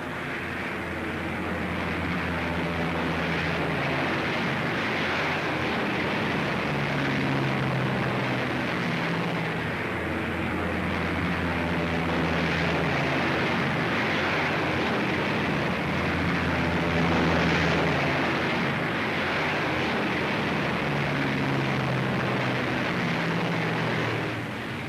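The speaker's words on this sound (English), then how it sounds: "Flugzeuge." A propeller-driven aircraft drones overhead in a steady, broad roar that swells slightly and holds throughout, with no voices.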